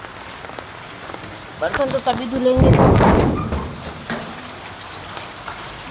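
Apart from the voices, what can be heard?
rain falling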